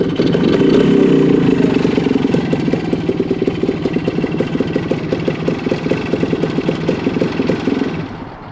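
A restored 1974 Honda MT250 motorcycle engine idles close by with a steady, even putter that holds throughout and eases off slightly at the end.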